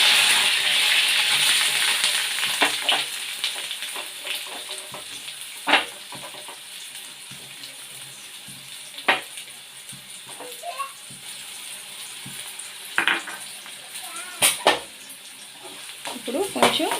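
Sliced onion and curry leaves hit hot oil in a wok with a loud hissing crackle that slowly eases into a steady fry. Sharp spatula clacks and stirring scrapes break in now and then.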